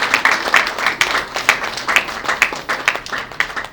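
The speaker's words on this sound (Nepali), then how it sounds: "ताली बजाइदिनु" Applause from wedding guests at a Nepali Christian wedding ceremony, a steady patter of many hands clapping at close range, pulsing slightly and sustained throughout.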